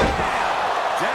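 A wrestler slammed hard onto the ring mat at a wrestling event, a single heavy thud under crowd noise and commentary.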